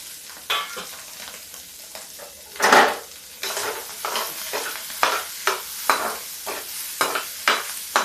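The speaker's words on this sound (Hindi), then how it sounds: "अभी ये आलू को हम फ्राई करेंगे। देखिए इसमें थोड़ा सा शिमला मिर्च भी डाल देते हैं।" Potatoes and capsicum frying in a pan, a soft steady sizzle broken by repeated scraping and clinking strokes of a spatula stirring, one louder clatter near the middle, no talking.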